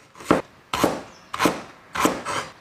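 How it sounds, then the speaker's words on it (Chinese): Knife chopping ginger on a cutting board while preparing a Sichuan rabbit stir-fry, four evenly spaced, close, crisp strokes with no voices. "再来切上一点姜、"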